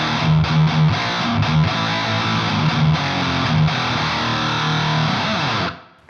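Heavily saturated HM2-style distortion pedal guitar tone at 12 volts, a thick buzzing chugging riff with sustained palm-muted notes, loud and continuous before fading out at the end.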